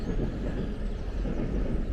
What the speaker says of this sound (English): that is a long train going over the railway bridge over there